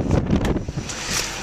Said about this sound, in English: A little windy out today, isn't it?